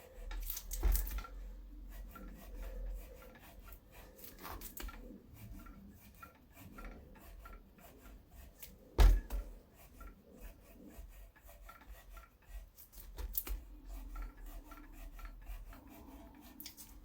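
Scrubbing and rubbing between the wheel spokes of an old rusty BMX bike during cleaning, a steady close rasping scrape with a few sharp knocks, no speech.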